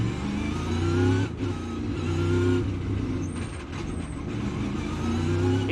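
A NASCAR Cup Series car pulling out of its pit stall on pit road at Charlotte, engine droning loud and steady with a brief dip and gear change, under a continuous broad race-track roar.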